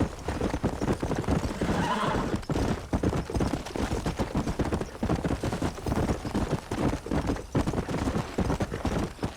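Horses galloping and neighing in the Nintendo Switch version of Red Dead Redemption, a loud rhythmic clip-clop of hooves with a whinny early on, the gallop continuing steadily to the end.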